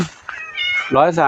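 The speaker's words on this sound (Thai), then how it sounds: "หลวงปู่มีสมาชิก103เหมียวแล้ว ทั้งหมด103เหมียว" A cat at Wat Pong Chai temple in Chae Hom, Lampang meows loudly and close by, giving a few drawn-out, rising and falling calls in quick succession.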